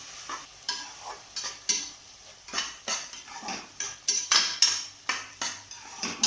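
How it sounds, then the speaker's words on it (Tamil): Tomato paste sautéing with onions in a pan, a metal spoon scraping and clinking against the pan in irregular stirring strokes over a soft sizzle, close and fairly quiet. "இப்போ தக்காளி பேஸ்ட்டு அதில் போட்டுக்கலாம். அது வதங்கிறதுக்கு ஒரு 2 நிமிஷம் ஆகும்."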